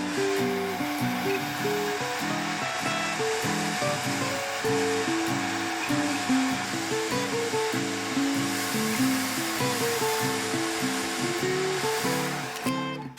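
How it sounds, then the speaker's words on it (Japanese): A hair dryer drying a watercolor pencil painting blows steadily and loudly throughout, a continuous airy whoosh with a droning motor hum, briefly cut at the very end. "これくらいに溶かせたらドライヤーで乾かします"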